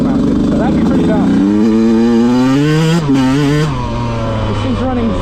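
A freshly rebuilt Yamaha YZ125 dirt bike runs on a rough trail, its engine loud and close, rising and falling through revs, while a rider talks over it.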